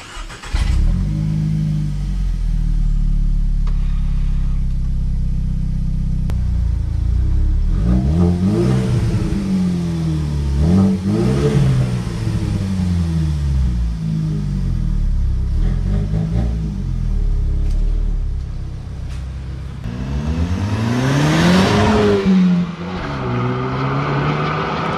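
A Vauxhall Astra VXR hot hatch revs hard through the gears out on the road, its engine note climbing and dropping repeatedly as it accelerates, loud and close from inside the car.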